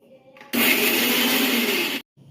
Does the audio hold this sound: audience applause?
no